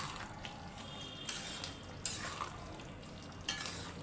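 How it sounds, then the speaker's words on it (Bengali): A spoon stirs spicy curry in a pan with soft scraping strokes and a faint sizzle underneath, quiet and close, with a few sharper clinks of the utensil against the pan. "ভালো করে মিশিয়ে দিচ্ছি।"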